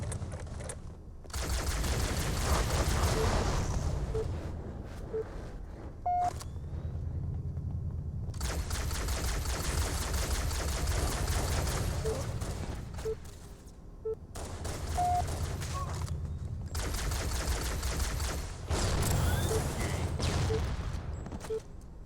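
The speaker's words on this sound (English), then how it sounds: "Boy, oh boy, do I hate that fucking plasma pistol." A plasma pistol fires in a video game, in long stretches of rapid, crackling shots broken by short pauses, loud and close throughout.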